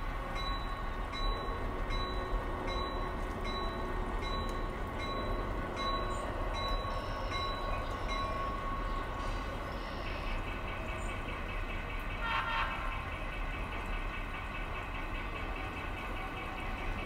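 A model railroad locomotive switches cars at low throttle, with a steady rumbling motor, rhythmic clicking and a brief horn sound partway through, heard alone without talk.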